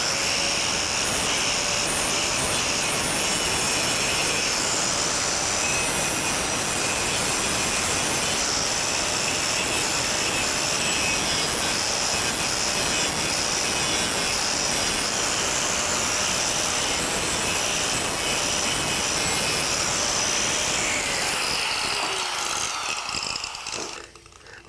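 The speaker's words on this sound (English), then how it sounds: "I'm gonna just grind the surface." A grinder rated for metal and stainless steel grinds a metal surface flat in one loud, continuous abrasive roar lasting over twenty seconds before it cuts off.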